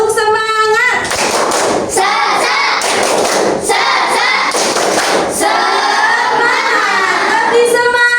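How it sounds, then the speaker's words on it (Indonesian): Schoolchildren in a classroom do a rhythmic spirit clap, bursts of loud unison clapping and thumping in a patterned beat, mixed with their chanting voices and a teacher's call at the start. "Tepuk semangat!"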